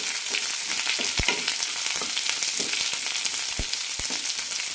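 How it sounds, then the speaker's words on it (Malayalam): Lengthwise-sliced shallots sautéing with curry leaves and chillies in a pan, giving a loud, steady hiss of frying with a few sharp spatula clicks scattered through it. "കൂടെ തന്നെ ചെറിയ ഉള്ളി അരിഞ്ഞത്. നീളത്തിലാണ് അരിഞ്ഞിരിക്കുന്നത്. നന്നായി വഴറ്റാം."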